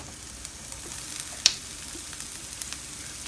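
Sliced garlic and ginger frying in oil for a mushroom pepper fry, a steady soft sizzle with faint crackles and one sharp pop, close and continuous with no voices.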